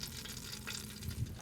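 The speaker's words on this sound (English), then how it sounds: "Can you hear the sizzle?" Steady crackling sizzle of breaded chicken cooking in an air fryer, close and continuous, with a few louder pops near the end.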